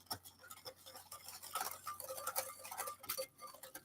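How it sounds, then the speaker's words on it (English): Whisk clinking quickly against a bowl while pudding mix is beaten for Oreo lava cake filling, a rapid irregular series of light metallic ticks, close and fairly quiet. "So just whisk this up."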